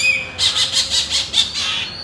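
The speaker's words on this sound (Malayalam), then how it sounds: "കിളി വരുന്നു" A bird gives a quick run of about six loud, close, shrill squawking calls in a rhythmic burst, heard alone without talk.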